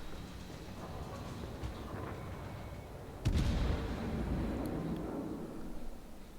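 Heavy 283mm naval guns of the Admiral Graf Spee fire in World of Warships, one loud booming salvo breaking in about halfway through and followed by a long rumbling roll over steady engine and sea noise, with no talking.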